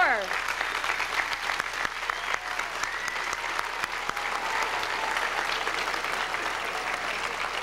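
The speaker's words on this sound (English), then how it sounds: "Another round of applause, sure." Audience applause at a Seneca Falls gathering with the First Lady, steady crowd clapping throughout, with a voice briefly audible at the start.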